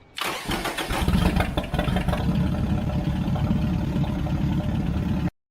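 A MerCruiser boat engine, running outside the boat on a stand, cranks and catches, then runs at a steady, loud rumbling idle for several seconds before cutting off abruptly.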